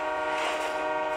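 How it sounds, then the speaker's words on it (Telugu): Train pulling into a station in the mobile battle-royale game BGMI, a steady rumbling rail sound with a faint horn-like tone, continuous and moderately loud throughout. "ఇక్కడికైతే ట్రైన్ అయితే వచ్చింది."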